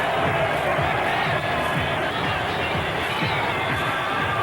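Boxing arena crowd roars as Naseem Hamed makes his entrance, a sustained, dense wash of cheering and shouting from a large audience, steady and loud throughout with no single voice standing out.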